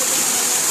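A small waterfall pouring over slippery rocks in a local stream, a steady close rush of water that holds a constant loudness throughout the brief moment, with no talk.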